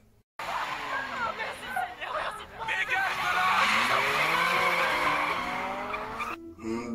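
A car in the Ready or Not game goes by with a long, loud rush and tire squeal that swells and fades across several seconds, with voices and shouting overlapping it.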